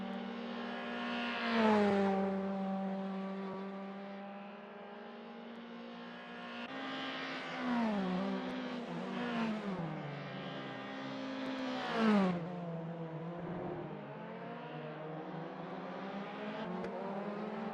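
GR Cup race cars in the Assetto Corsa racing game rev and sweep through gear changes, engines rising and falling several times as they pass in a continuous, moderately loud stream.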